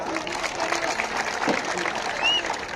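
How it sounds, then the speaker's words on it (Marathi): Crowd clapping for a wrestler at an outdoor kusti wrestling match on a village maidan, a steady wash of applause from a large audience with a voice rising over it. "त्याच्यासाठी टाळ्या वाजवा."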